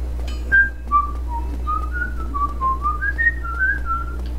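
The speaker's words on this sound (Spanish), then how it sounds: "estoy silbando." A person whistles a wandering tune of short, clear notes rising and falling over a steady low hum, close and moderately loud, while playing Dark Souls.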